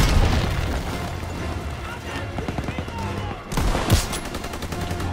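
Booming bursts of gunfire and explosions aimed at an MG42 machine-gun nest in the World War II shooter Call of Duty WW2, dense and continuous, with a louder blast just before the end and speech mixed in.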